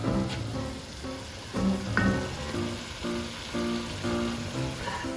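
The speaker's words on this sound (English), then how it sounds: "Now my mom is mixing." Vegetables for a family gumbo are stirred in a hot pot, a soft, steady sizzle of frying with intermittent scraping and stirring strokes close by, with no talking.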